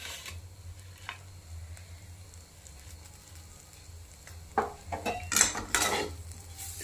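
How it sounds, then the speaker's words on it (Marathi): Bitter gourd being stirred in a cooking pan: soft scraping and metallic clinks of a spoon against the pan, quiet at first, then a cluster of louder scrapes and knocks toward the end over a faint low hum. "कारलं असं चांगलं हलवून घ्यायचं"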